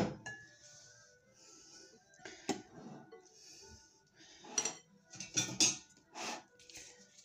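Utensils clinking against a glass bowl while tossing a salad of shrimp, cubed Comté and bean sprouts, sharp scattered clinks and scrapes, close and fairly quiet with pauses between.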